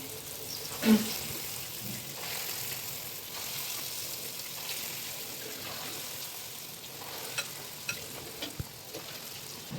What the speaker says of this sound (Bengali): এইভাবে বড়াগুলো সব ছেড়ে ভেজে নিতে হবে।